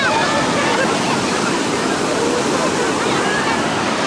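Ocean waves at Santa Monica beach wash in as a loud, continuous rushing roar of surf with no break in the noise.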